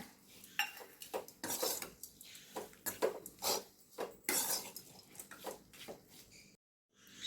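Cooked rice for amla (nellikai) rice is stirred in a pan, a spoon scraping and clinking against the metal in irregular close strokes, fairly loud, with a brief pause near the end.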